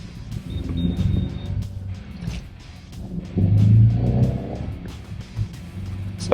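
A Mahindra Bolero engine pulls up through the gears, a low rumbling drone that rises and falls as it accelerates, heard from inside the vehicle with a louder surge midway.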